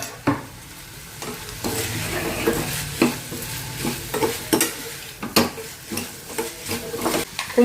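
Cut beans, potato and carrot tipped into a hot pan and stirred, giving a steady close sizzle broken by scraping strokes and sharp knocks of the spoon against the pan.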